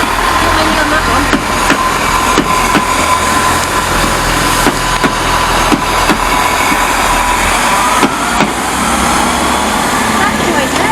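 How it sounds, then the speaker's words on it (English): Train wheels clunk over rail joints at Exeter St Davids station, a series of sharp, evenly spaced knocks over a constant loud diesel engine drone. "it's the clickety clack of the platform"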